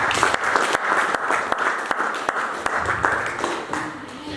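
Continuous, fairly loud applause fills a church as the congregation claps steadily, with a few sharper individual claps standing out and faint voices underneath.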